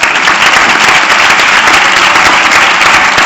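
A conference audience breaks into dense, sustained applause, many hands clapping loudly and evenly from start to finish with no pauses.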